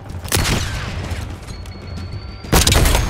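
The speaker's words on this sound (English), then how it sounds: "Send in flashbang." A flashbang grenade detonates in the Call of Duty Black Ops 6 video game, two loud broadband bursts separated by a quieter ringing stretch, close and without speech.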